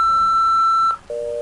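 Answering machine beep in the video game Nancy Drew: Stay Tuned for Danger, a loud, clear electronic tone held for about a second, then a short pause and a second, lower tone.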